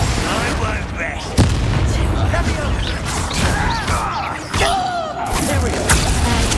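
Repeated fiery spell blasts from Confringo in Hogwarts Legacy, booming impacts and whooshes mixed with other combat spell sounds over dense game music and clatter, fairly loud throughout.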